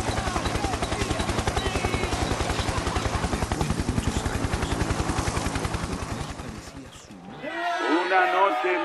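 A helicopter thumps with steady, rapid rotor beats for several seconds and then cuts off abruptly, followed by a different busy sound.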